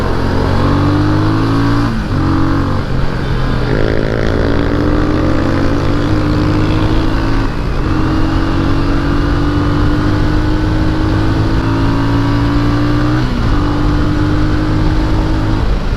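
A Motorstar Cafe400 motorcycle engine revs loudly and repeatedly at close range, its pitch climbing in several rising sweeps that drop back between throttle blips, with a slightly vibrating, rough edge and no talking.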